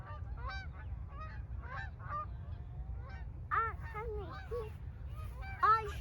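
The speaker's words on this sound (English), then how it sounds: "Those are the Canadian geese." Canada geese honk repeatedly at close range in a flock, with overlapping nasal calls over a low rumble of outdoor background noise and a few louder honks near the end.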